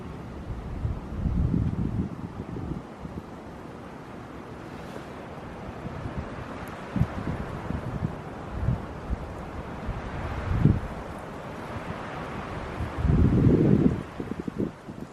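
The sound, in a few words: wind blowing through forest trees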